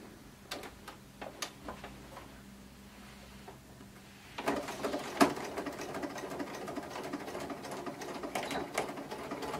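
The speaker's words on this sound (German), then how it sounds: "Als nächstes nähe ich diese offenen Kanten zu mit einem Geradstich." A sewing machine runs a straight stitch along open fabric edges, first as scattered ticks and then a steady, moderately loud close whir with rapid needle clicks.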